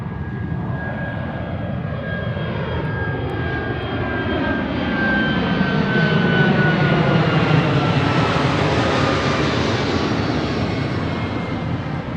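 Jet engine roar from an Airbus A321 airliner departing Honolulu for Seattle, a broad steady rumble that swells slightly toward the middle with a faint whine riding on top, continuous and fairly loud.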